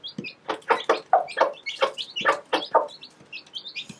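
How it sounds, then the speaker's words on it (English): A broody hen with young chicks gives rapid, repeated soft clucks to call them to food, close and clear, while high peeping chicks chirp around her. "So that little noise that she's making is similar to what a rooster does when he calls the hens over to food."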